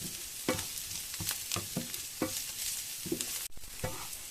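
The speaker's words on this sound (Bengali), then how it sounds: "গাজরটাকে আমরা ওই জন্যই ছোটো ছোটো করে কেটেছি, যাতে এটা তাড়াতাড়ি ফ্রাই হয়ে যায়" Small chopped carrots frying in a pan, a quiet steady sizzle punctuated by repeated scraping stirs of a spatula every half second or so, close and faint, with no talk.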